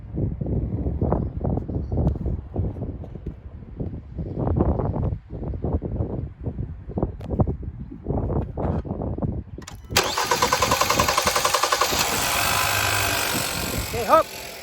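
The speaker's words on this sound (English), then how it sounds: "we'll go ahead and try to fire it up" 2015 Hyundai Santa Fe engine cranking after a fuel line leak repair, a steady, rapid starter churn that runs for about ten seconds, then turns into a rougher, louder running or grinding sound near the end.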